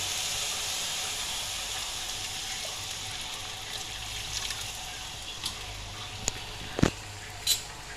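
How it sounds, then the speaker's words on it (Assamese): Water hits frying taro in a hot wok, producing a steady steamy hiss and sizzle that gradually settles, with a few sharp utensil clicks and knocks near the end. "এতিয়া আমি এইখিনি অলপমান ভাজি ইয়াতে অকণমান পানী দি দিম"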